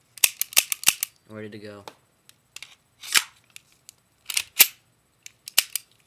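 An HFC M190 airsoft gun fires in quick bursts of sharp, snappy cracks up close, with a short voiced remark and a few clicks of handling between the shots.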